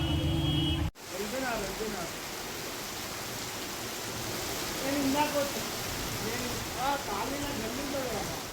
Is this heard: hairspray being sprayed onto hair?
no